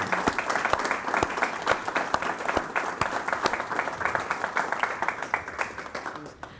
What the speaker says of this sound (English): A round of applause for Dr. Markward,